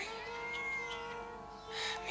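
A kitten meows softly a few times in quick succession, thin and plaintive, close by and fairly quiet, with no talking over it.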